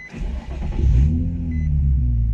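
A Nissan 350Z is started: a short starter whir, then the engine catches and settles into a loud, steady idle rumble, close by with no talking.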